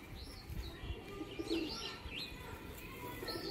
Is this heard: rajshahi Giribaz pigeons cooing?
yes